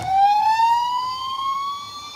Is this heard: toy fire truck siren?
yes